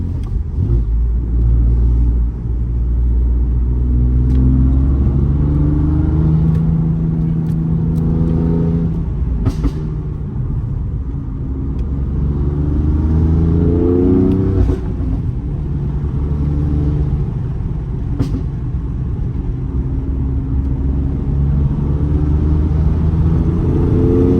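A manual LSB BMW F80 M3 fitted with Eventuri intakes and an MHD tune accelerates from inside the cabin, its engine rumbling and rising through steady harmonic sweeps, loud and continuous across repeated pulls without talk.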